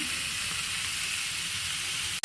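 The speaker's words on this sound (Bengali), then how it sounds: "এই তেল গরম হয়ে গেছে আমি পেঁয়াজ দিয়ে দিই কয়েকটা কাঁচামরিচ দিয়ে দিই" Onions and green chilies sizzle in hot oil in a pan, a steady close crackling hiss that runs unbroken, then cuts off abruptly near the end.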